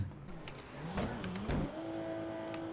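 A video game car engine hums and rises in pitch as it revs up, fairly faint with a smooth, steady tone.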